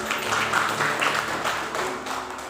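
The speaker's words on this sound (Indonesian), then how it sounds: "Tepuk tangan, Pak." A congregation at a church service claps together in a moderately loud, uneven patter of applause that carries on steadily, with some voices faintly mixed in.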